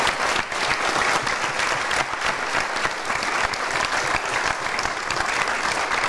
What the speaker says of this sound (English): show our appreciation to the panelists in the normal way with a round of applause